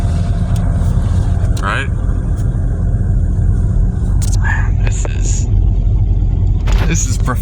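A rear-wheel drive car rolling over snow and ice on a south Alabama road makes a steady, low rumble from inside the cabin, while people talk and murmur over the drone.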